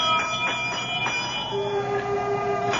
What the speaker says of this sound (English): I reach out and pull the bell.